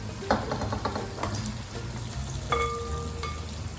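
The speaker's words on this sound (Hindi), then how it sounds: "अब इसमें हम बॉइल्ड चने मिक्स कर देंगे" Boiled chickpeas being mixed into a sizzling masala of chicken and red and green chilies for Lahori chanay, with steady frying hiss and a few scraping stirs of the spoon against the pan.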